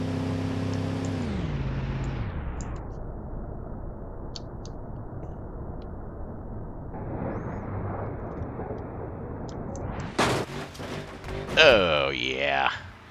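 A big American car in BeamNG Drive accelerates with a droning engine note, then slams into concrete barriers near the end with loud crunching impacts and rattling debris, while a voice talks over the driving.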